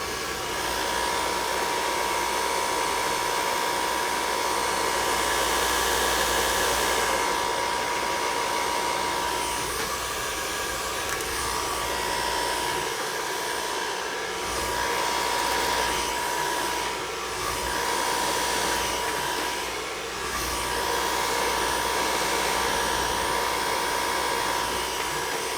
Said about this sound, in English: So then I go ahead and take my blow dryer.